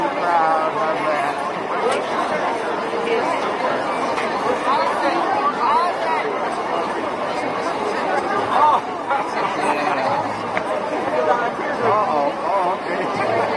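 Dense, steady crowd chatter surrounds the listener as many voices overlap at close range while walking through a women's solidarity march in Buffalo, NY, in 2018.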